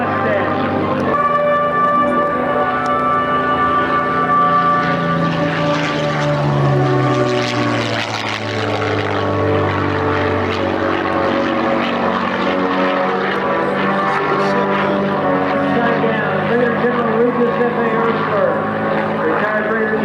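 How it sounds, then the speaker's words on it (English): A P-51 Mustang propeller fighter drones overhead at a 1994 airshow in Frederick, Maryland, its loud engine roar swelling and shifting in pitch as it passes, then holding steady and near. "P-51 Mustangs."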